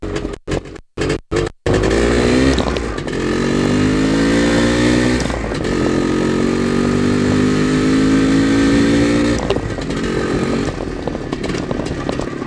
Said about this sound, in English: Just a fantastic running motorcycle.